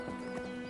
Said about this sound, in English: When Javier Martín is not herding cattle, he gives displays of traditional Spanish horsemanship.